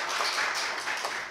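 A church congregation claps briefly at a Christmas Day service, a short burst of dense hand claps at steady, moderate loudness.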